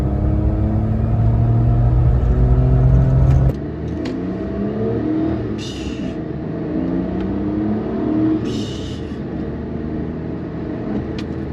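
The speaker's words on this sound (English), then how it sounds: "Hear the turbo spool up too, which is pretty cool." A Suzuki Jimny JB23 engine revs up through the gears, drops sharply at a shift, then pulls steadily again on the highway. A faint rising whine comes through the loud, continuous cabin drone.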